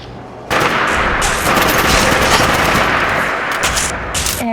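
Sustained rapid automatic gunfire in the video game Fallout 4, a loud, continuous rattling burst that starts abruptly and keeps going, with a few pops breaking through near the end.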